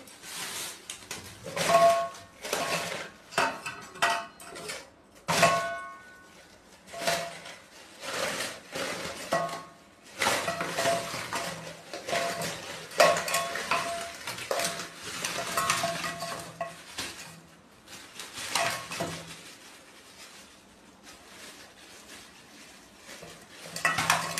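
Live koi fish (climbing perch) flap and jump inside a container at a market. The clip is a string of irregular slaps, knocks and rattles in uneven bursts, some sharp and close, with brief pauses between them.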